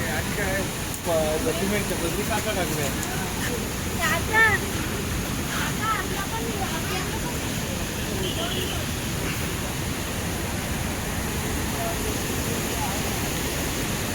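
Napne waterfall in the Konkan roars as a constant, dense rush of heavy water, overlaid by gusty wind buffeting the microphone, with faint voices in the background.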